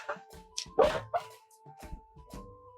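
A dog gives several sharp, yippy barks and whimpers in short irregular bursts, fairly close, over a steady low electrical hum.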